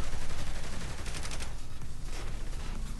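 Rapid bursts of gunfire crackle in Saints Row The Third, dense overlapping shots at close range that keep rattling for the whole stretch with no voices on top.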